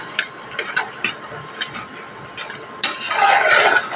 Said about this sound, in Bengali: একদম ভালোভাবে মশলাটা কষিয়ে নিতে হবে।